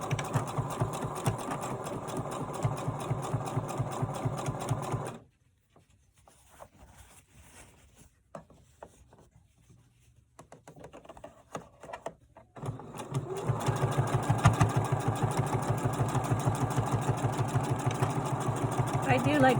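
A sewing machine stitches the bottom seams of a fabric gift bag, a fast steady mechanical whir running loud and close, falling quiet to faint handling noises for several seconds, then resuming its rapid stitching.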